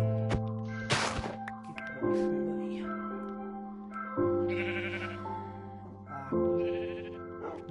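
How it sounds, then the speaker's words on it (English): Sheep in the Minecraft video game bleating several times, each bleat a wavering tonal call followed by pauses, clear and near with no talk. "My sheep."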